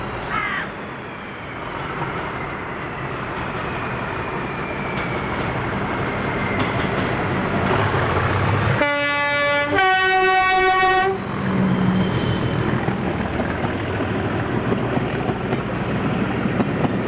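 Diesel train 1M77, the 14:00 departure from Bo'ness, with locomotive 37403 and 27001 at either end on Kinniel Incline, rumbling steadily nearby and building in loudness, with two strong blasts of the horn partway through and crows cawing.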